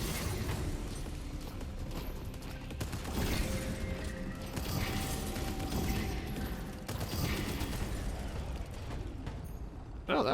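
Video game Abyss with a thrown turret firing and clearing a room of creatures, a dense stream of rapid shots, bursts and explosions, loud and continuous.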